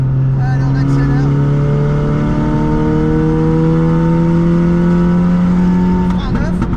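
A 336-horsepower Volkswagen Polo GTI accelerates hard on a race track at Le Luc, its engine note climbing steadily in pitch through a long pull before a brief shift near the end, loud and close from inside the car.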